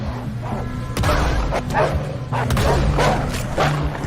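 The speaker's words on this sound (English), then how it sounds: "Got more wolves on the left." Wolves snarl and bark repeatedly in Red Dead Redemption 2, loud, close and overlapping, in several bursts under game music and shouted character dialogue.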